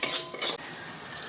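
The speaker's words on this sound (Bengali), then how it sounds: "আর একটু মিক্সি ধোয়া জল দিয়ে দিলাম, দিয়ে এবার ভালোভাবে মশলাটাকে কষে নেব" A utensil scrapes twice across a pan as spice masala of salt, Kashmiri chilli, turmeric and cumin powders with a splash of water is stir-fried for a fish curry. The scrapes are close and crisp over a soft sizzle.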